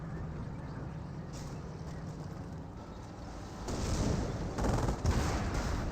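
Gunfire rounds fired into a house during a Company of Heroes battle: a steady rumble of distant shots that swells into louder, denser bursts over the final seconds, with no voices.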